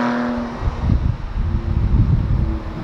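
Porsche Boxster with a stock 2.7-liter engine, cold air intake and mufflers removed, roaring loudly and close with a rough, throaty drone that rises and surges throughout, and no talking.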